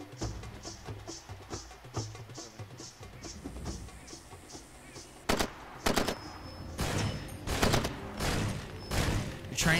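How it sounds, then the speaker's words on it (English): Shotgun fire in the video game Far Cry 2: several loud, sharp blasts come in close succession in the second half, after a stretch of quieter, rapid clattering shots. "Bro is literally using a shotgun like it's a long-range rifle."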